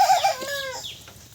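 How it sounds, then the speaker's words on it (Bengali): Broiler chickens raised in a small backyard alongside native hens give a short, nearby clucking call over quiet surroundings, then fall silent. "আর এখানে দেখতে পাচ্ছেন এটা হচ্ছে ব্রয়লার মুরগি।"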